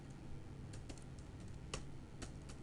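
Quiet, rapid typing on a computer keyboard while Java code is entered, with irregular clicks and a few sharper keystrokes, close and alone with no talk.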